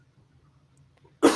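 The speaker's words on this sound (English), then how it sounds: "Now you make me cough." A single sharp cough bursts out loudly at the very end, after more than a second of near silence with only a faint low hum.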